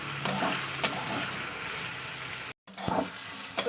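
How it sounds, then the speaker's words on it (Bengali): Carrots and potatoes fry in a pan as they are stirred, a steady close sizzle punctuated by a few sharp scrapes and clinks of the utensil, with one brief dropout partway through. "গাজর দিয়ে একটু নড়াচড়া করে নেবো।"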